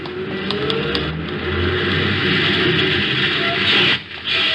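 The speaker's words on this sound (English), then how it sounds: "I reached the stop as the bus was pulling away" A city bus pulls away from a stop in an old radio-drama scene, its engine revving and droning steadily up close for a few seconds before briefly dropping off.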